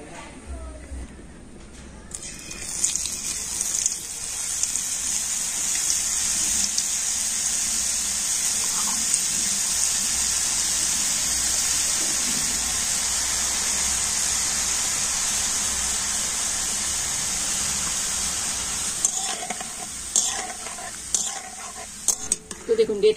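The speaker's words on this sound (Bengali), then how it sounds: "তো সেই বোঁদেগুলো ভেজে নেব।" Red-coloured boondi, small gram flour drops for motichoor laddu, fry in hot oil with a steady, dense sizzle that holds close and loud for most of the stretch, with a few scrapes of a stirring spoon near the end.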